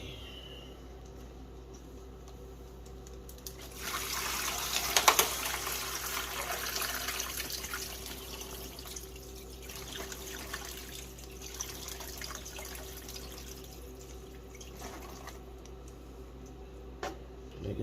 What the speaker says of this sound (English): Now we just pour our brine mixture